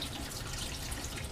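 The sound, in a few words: water from a tap rinsing lab glassware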